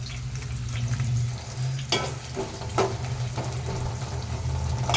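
Mustard seeds and cumin fry in hot oil for a spinach chicken curry: a steady, close sizzle with faint crackles and a few sharp clinks of a spoon stirring the pan.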